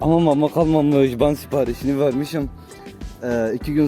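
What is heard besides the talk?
No distinct noise like a dog, phone or traffic.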